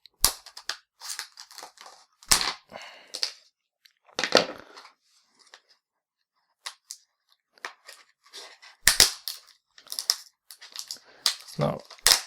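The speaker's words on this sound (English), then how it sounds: "So let's cut these open" Plastic earbud packaging being cut open with scissors, a series of sharp snipping and crunching snaps spaced irregularly, with a voice talking between the cuts.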